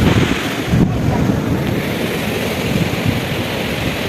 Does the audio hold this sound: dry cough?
no